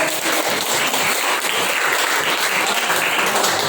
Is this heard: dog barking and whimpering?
no